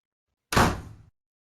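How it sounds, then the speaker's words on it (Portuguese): A door slams shut in one sharp, sudden thud with a brief rumbling decay, isolated against silence. "A porta de repente fechou."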